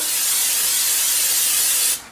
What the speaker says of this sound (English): I'm going to put quite a bit of butter spray in since I'm not using real butter